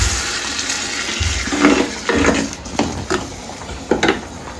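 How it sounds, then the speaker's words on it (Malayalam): Ground coconut and masala paste poured into a pan for a fish curry, a wet, thick sloshing and splattering over a steady background hiss, with several soft plops and scrapes as the paste lands. "തേങ്ങ അരച്ച് വെച്ചത് മസാല എല്ലാം കൂടെ ഒഴിച്ച് കൊടുക്കാം."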